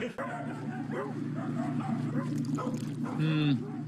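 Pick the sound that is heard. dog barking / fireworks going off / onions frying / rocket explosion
dog barking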